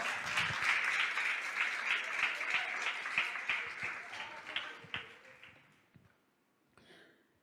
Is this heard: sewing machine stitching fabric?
no